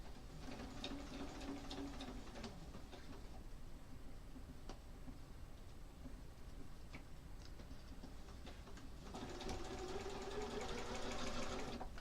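A sewing machine runs steadily while stitching through a quilt leader, giving a continuous fast mechanical whir and rattle, close and even, that grows slightly louder near the end.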